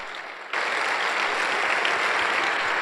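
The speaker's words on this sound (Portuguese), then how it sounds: "Dá um aplauso a Jesus." Loud, dense applause erupts suddenly from a church congregation at a pastors' gathering, after a short quieter moment, then continues steadily without a break.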